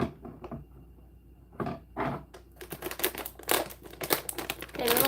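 Scissors snip through a crinkly plastic bag of hard fruit candies, a series of sharp cuts and rustles coming close and fairly quietly, with a few scattered crackles before the cutting picks up.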